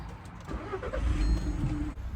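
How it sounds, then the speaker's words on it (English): An Audi RS3 8P engine starts up with a short cranking churn that catches into a low, steady idle rumble, close and alone over about two seconds. "So if I turn the engine on"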